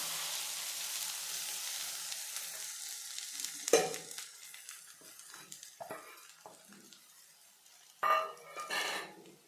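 Five beaten eggs pour into a hot frying pan beside sprouted green gram, giving a steady hiss that fades over several seconds. Scattered clinks and scrapes of a utensil follow, with a louder spatter near the end.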